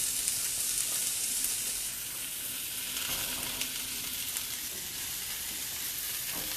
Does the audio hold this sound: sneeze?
no